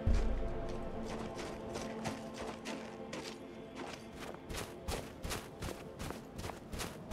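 Horse hooves clip-clop steadily in Skyrim with the Wildlander mod, an even rhythm of fairly close thuds that grows slightly firmer toward the end, with no other sound over it.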